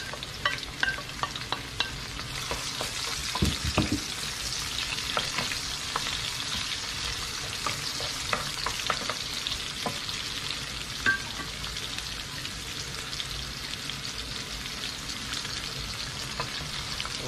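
Onions sauté in a pan after garlic, a steady low sizzle with repeated spatula stirs and taps, close and fairly quiet, with no talking.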